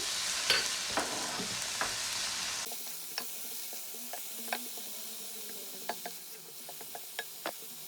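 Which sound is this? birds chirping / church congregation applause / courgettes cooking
courgettes cooking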